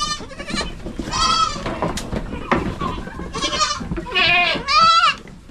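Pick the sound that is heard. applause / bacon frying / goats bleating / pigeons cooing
goats bleating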